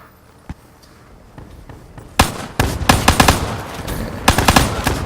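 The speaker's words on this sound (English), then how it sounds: "This guy's pretty good with that shotgun" Shotgun blasts and rapid gunfire erupt loud and close in a team deathmatch video game, arriving in bursts after a quiet opening.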